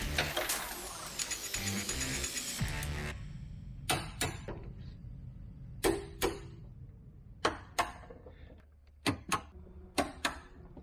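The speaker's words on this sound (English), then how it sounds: "tighten all the nuts and bolts to the correct tightness using a tool called a torque wrench, which makes a very specific sound" A torque wrench tightening suspension nuts and bolts on a Mazda Miata gives sharp single clicks spaced a second or two apart, close and clear, after a few seconds of busier mechanical clatter.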